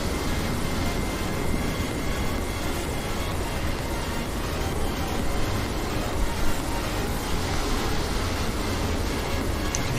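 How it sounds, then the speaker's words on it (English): A continuous broadband engine roar from another airliner flying past in a flight simulator, steady and moderately loud across the whole stretch with a slight swell near the middle and no speech. "I can hear another plane."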